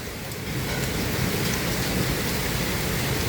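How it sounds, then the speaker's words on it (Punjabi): Dense, continuous hiss of heavy rain pouring down in a thunderstorm with strong wind, steady and close, with no talking. "ਮੀਂਹ ਵੀ ਨਾਲ ਆ ਰਿਹਾ"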